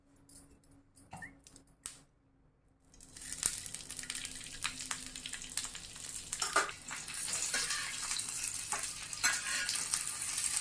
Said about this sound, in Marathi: आता आपण मिरच्या भाजून घेऊयात तेल टाकून